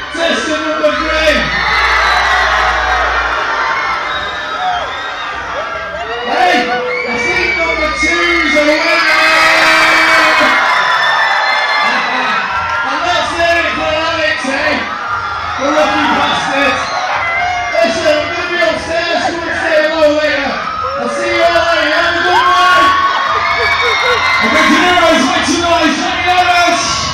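Over loud music in a club, a crowd whoops, bellows and yells for a contestant in a loudest-cheer contest, bursts of shouting rising and falling irregularly across the stretch, with talk mixed in.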